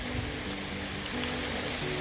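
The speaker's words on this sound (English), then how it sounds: "you can hear the rain." Rain falls steadily outside on a landscaping site, a constant dense hiss with no distinct drops standing out, alone and fairly soft.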